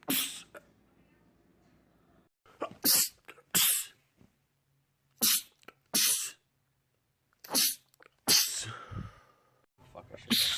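A man sneezes repeatedly in a rapid fit: about seven sharp, loud, close bursts come in quick clusters with brief quiet gaps between them.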